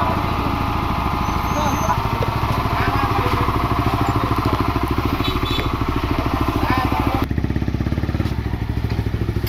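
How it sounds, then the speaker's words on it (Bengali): A rebuilt 2016 Honda CBR 150R, overhauled after 76,000 km, runs close by with a steady, rapid single-cylinder chug before its tone shifts near the end as it pulls away, while voices talk nearby. "কাজ কমপ্লিট, বাইক রেডি। শাহাদাত ভাই গেছে টেস্ট রাইডে"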